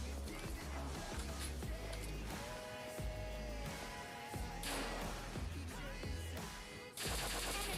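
Bursts of gunfire crack out in a shooter video game with a bolt-action rifle, sharp repeated shots punctuating a busy layer of game music and effects.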